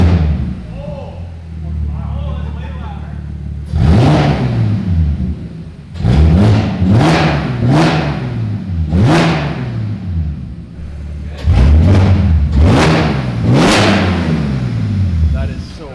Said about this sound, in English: we're gonna find out what an S4 sounds like with no exhaust